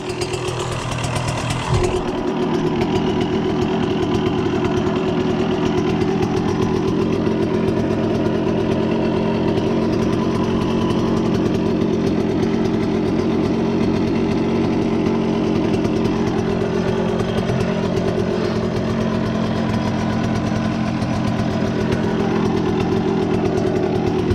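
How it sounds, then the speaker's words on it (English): A KTM 125SX two-stroke dirt bike with a freshly redone clutch runs loud and close, its engine note holding steady with small rises and dips while riding, with no voices. "So this is my first ride on the bike since having redone the clutch."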